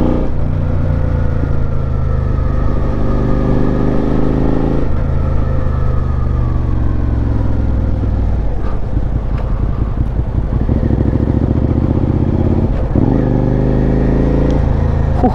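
A Suzuki SV650 motorcycle on an early morning ride downshifts from third to second, its engine note dropping and rising over steady loud wind buffeting on the microphone.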